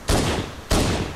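Two loud, close gunshot bursts from a weapon in the video game Halo, each a sharp broadband blast with a ringing tail, spaced about half a second apart.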